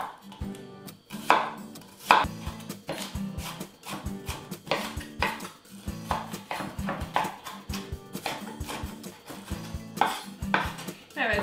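A knife chops onions on a cutting board in rapid, rhythmic bursts of sharp taps, close and clear, with brief pauses between runs and no talking.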